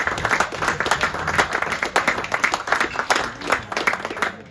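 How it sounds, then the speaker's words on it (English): Applause from a crowd at a school gathering, a dense wash of many hands clapping steadily at close range for the whole stretch, with no talking over it. "big round of applause for Jeremy Neal Funerals in our school"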